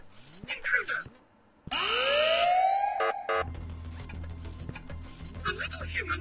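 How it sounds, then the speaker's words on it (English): A loud alarm siren in the Ice Scream 5 video game, set in a kidnapper's factory, wails with a rising sweep and then holds steady, with a low hum and game voices before and after it. "Sound the alarm."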